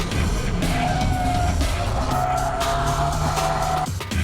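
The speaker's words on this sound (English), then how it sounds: "Keiichi Tsuchiya drifts using 6 different drift techniques" A car drifting on track, driven through varied drift techniques, with loud sustained tire squeal and skidding over a roaring engine, close and continuous for about four seconds.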